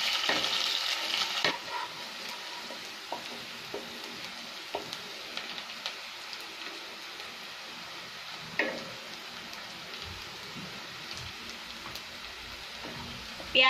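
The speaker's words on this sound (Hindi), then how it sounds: "अब हम इसमें ऑनियन डालेंगे, इसे थोड़ा सा लाइट ब्राउन कर लेंगे" Onions fry toward light brown in a pan for an aloo masala sandwich filling; a quiet, continuous sizzle punctuated by regular spoon scrapes and taps as they are stirred, with one louder clatter at the start.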